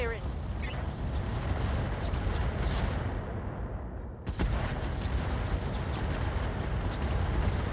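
Continuous heavy weapon fire in Roguetech, the BattleTech mod, a dense roaring barrage with a brief dip midway before the loud din resumes.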